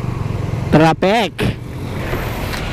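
Road traffic and engine rumble drone steadily during a ride on a Yamaha R15 v3 motorcycle, while a voice speaks briefly over the noise partway through.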